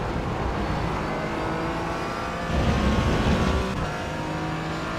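A Porsche race car's engine drones steadily in the iRacing simulator during an IMSA Michelin Pilot Challenge race at Road America, holding a continuous loud tone with a brief surge in the middle.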